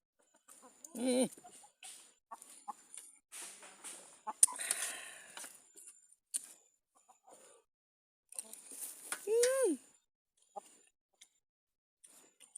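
Domestic chickens clucking and squawking in irregular bursts, with a couple of louder rising calls standing out against a quiet outdoor background.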